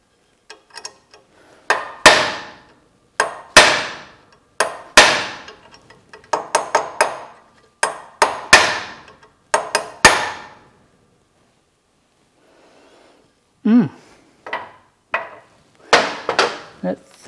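Hammer blows on a chisel splitting a bearing race along a cut slot, a loud metallic clang repeated in close bursts of two or three strikes with short pauses between, ringing sharply and close by.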